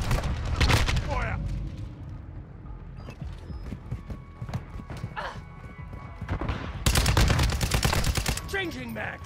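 Kastov 545 rifle fire in Call of Duty Modern Warfare 2 multiplayer, rapid bursts of sharp shots with a dense volley near the end, mixed with clanking mechanisms, game effects and shouted voices.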